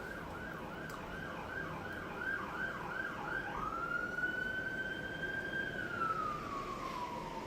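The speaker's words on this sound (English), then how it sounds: "here comes the sirens" An ambulance siren yelps in rapid rising cycles, then shifts into a long sweeping wail as it passes, moderately distant over traffic noise.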